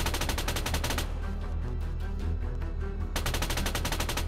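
Rapid automatic gunfire in Arma 3 during an escape mission, dense bursts of shots close by at the start and end with a brief lull of distant rattling between.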